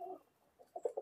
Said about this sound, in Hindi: ये देखें स्टैंडिंग देखें, साइज देखें डब वाले कबूतरों के